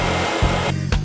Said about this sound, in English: I decided to just pull out my other dryer and I'm going to sit up under here for a little while.